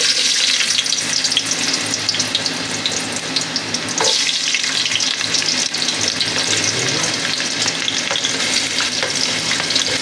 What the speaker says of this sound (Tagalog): umpisa na po natin ang paggisa ng luya